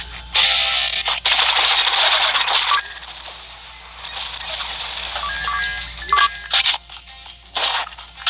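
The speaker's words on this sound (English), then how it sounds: "PKP is actually pretty iffy once it starts really firing." Rapid bursts of PKP machine gun fire in the video game Soul Knight, loud and sustained with electronic game effects, broken by short pauses and a few sharp stutters near the end.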